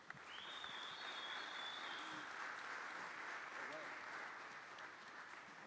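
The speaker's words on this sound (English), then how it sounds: "big round of applause there, guys" Faint applause from an audience at a Playground session of the NFC23 conference, a low, steady wash of clapping heard at a distance, with a thin high tone over the first seconds.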